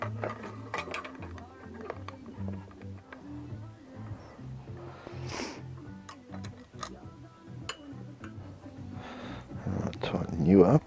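Ratchet clicks tightening bolts on a motorcycle tool carrier fitted to a Yamaha XT600, quick ticking bursts close up amid workshop clatter, with people talking in the background.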